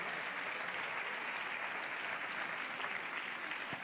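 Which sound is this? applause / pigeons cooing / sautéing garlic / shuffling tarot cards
applause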